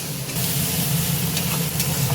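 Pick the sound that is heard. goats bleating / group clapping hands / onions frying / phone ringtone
onions frying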